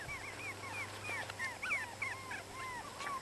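Chihuahua puppies whimper and yip in a steady run of high, thin cries, several overlapping close by over a low background hum.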